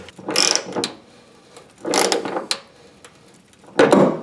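A ratchet tightens bolts during a carburetor-to-Sniper EFI fuel injection conversion, sounding as three loud close bursts of rapid clicking separated by short pauses.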